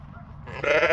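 Ewes in a paddock give out a single short bleat that swells near the end, close by and clear over a quiet background.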